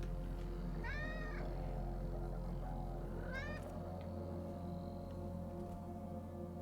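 Cat meowing indoors, two short rising-falling meows about two and a half seconds apart over a quiet steady room hum, with no talking.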